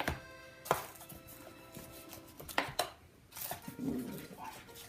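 Knife cutting through a crispy burek meat pie, with several sharp crunchy cracks as the flaky pastry layers break, separated by quieter scraping and rustling, close up with no talk.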